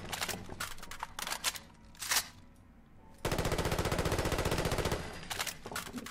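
FAMAS assault rifle from a Fallout 4 weapon mod firing on full auto: a dense sustained burst of rapid crisp shots lasting nearly two seconds, preceded by scattered mechanical clicks and handling noises.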